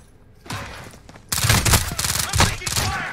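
Rapid bursts of gunfire in a video game during a prison-area firefight, loud and dense after a quieter start, with players talking over the shots.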